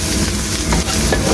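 Sliced shiitake mushrooms stir-fried in a pan give a steady close sizzle with brief scraping stirs, for about a second and a half and with no voices.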